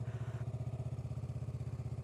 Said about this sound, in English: I'm basically idling like a car, but since I'm going uphill, it's not moving the bike